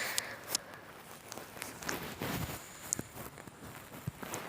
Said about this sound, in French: là, j'entends des bruits de pas